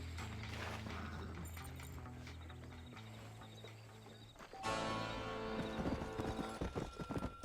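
Horse hoofbeats on a road into the town of Armadillo in Red Dead Redemption, steady clip-clop with creaking tack under game music, growing louder and busier partway through.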